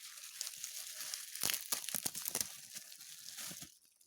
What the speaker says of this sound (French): Bon, c'est assez facile à déballer